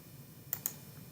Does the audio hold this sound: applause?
no